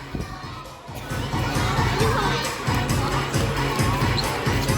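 Kindergarten children shriek and cheer from the stands at a youth football match between two temple schools, a continuous loud crowd din of high-pitched screaming throughout.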